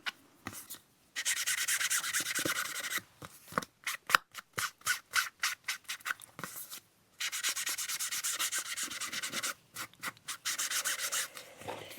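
Walnut stain ink being rubbed onto paper to age it, heard as close, dry swishing rubs in long sustained passes alternating with quick short strokes, with no talking.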